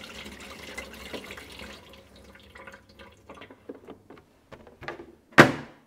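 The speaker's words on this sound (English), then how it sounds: "there's a button on the front which starts the flush function" Dometic 976 portable toilet flushing: a run of watery gurgles, drips and small knocks builds to a short sharp splashing rush at the end, close and fairly quiet.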